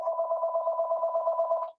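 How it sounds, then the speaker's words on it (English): A landline house phone rings with a rapid warbling trill, loud and close, pulsing evenly for nearly two seconds before cutting off abruptly. "That's the house phone too."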